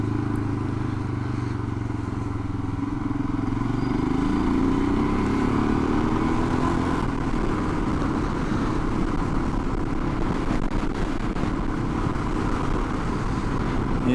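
A Royal Enfield Himalayan motorcycle is ridden, pulling away in second gear with a rising engine note, then settling into a steady, loud riding rumble mixed with wind noise.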